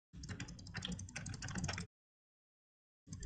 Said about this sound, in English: What the hell are you doing to your keyboard?